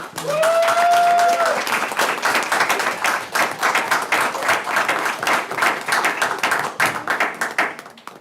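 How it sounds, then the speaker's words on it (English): An audience at a Wilson County Schools board meeting applauds the digital teaching and learning staff, brisk close clapping sustained throughout, with a brief whistle-like tone near the start. "Let's give them a round of applause"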